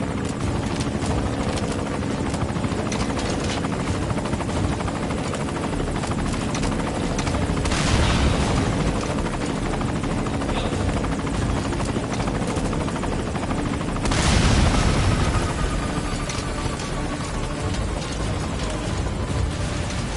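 A helicopter in Metal Gear Solid V thrums loudly and continuously with a dense rotor roar, swelling twice as it passes closer, with faint mechanical clatter beneath.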